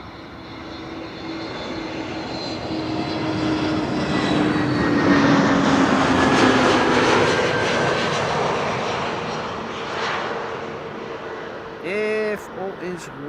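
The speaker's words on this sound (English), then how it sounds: "Up next, A321neo." An Airbus A321neo arriving at Amsterdam Schiphol Airport passes with a broad engine roar that swells to a loud peak mid-pass and then slowly fades, with brief soft speech near the end.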